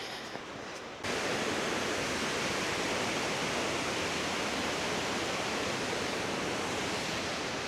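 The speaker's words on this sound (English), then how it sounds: "There's so much water still in the waterfalls." Waterfalls in Norway's Flåm Valley, still swollen with water during a mild early winter, roar as a broad, unbroken rush of white noise that starts abruptly after a quieter second and stays loud and steady.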